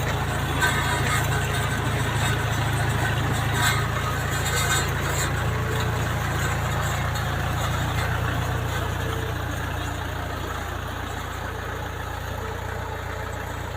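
A tractor engine drones steadily at a constant idle-like pitch with a deep low hum while sowing peanuts, running continuously without voices.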